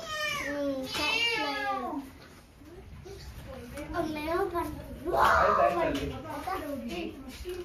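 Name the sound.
cat meowing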